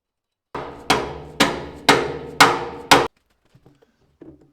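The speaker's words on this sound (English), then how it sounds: "having to bring the old dead blow hammer out" A dead blow hammer knocks parts of a cheap 8-inch jointer into place: six sharp, loud strikes in a steady rhythm, each with a short ringing decay, followed by a few faint handling clicks.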